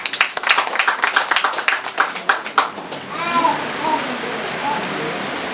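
An audience claps loudly and irregularly for a snail farmer at a farming event in Cross River State. The clapping fades out after about three seconds, leaving quiet room noise with faint voices.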